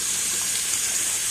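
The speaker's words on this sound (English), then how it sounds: "giving these plants and everything, trees, a little water" Water sprays onto backyard garden plants and trees in hot weather, a constant, bright hiss of steady flow, close and uninterrupted, with no voices.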